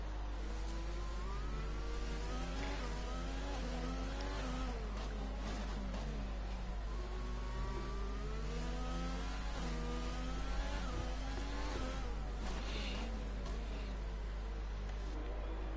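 Two Renault Formula cars in a racing video game run side by side, their engines whining and shifting pitch steadily throughout, with faint commentary murmuring underneath.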